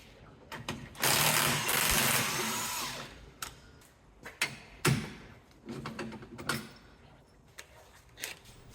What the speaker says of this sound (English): Undoing the 4 15mm bolts which hold the wishbone on.